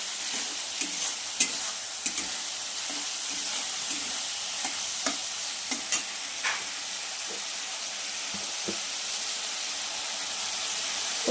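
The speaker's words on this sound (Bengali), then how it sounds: "আমি চিকেনটা খুব সুন্দর করে এই মশলার সাথে কষিয়ে নেব।" Chicken pieces sizzle in a pan as they are cooked down with masala for chicken chana masala, a steady close hiss broken by scattered spatula scrapes and taps, with no talking.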